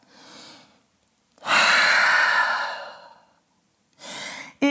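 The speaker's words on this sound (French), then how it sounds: "Grande respiration en chien tête en bas." Deep breathing during a downward dog yoga pose: a soft inhale, then a long, loud, airy exhale, followed by another breath, close and alone without talk.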